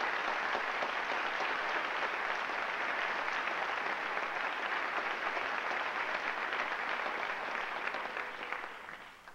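A large audience at a university graduation ceremony applauds in a steady, full wash of clapping that holds evenly for several seconds before tapering off at the end.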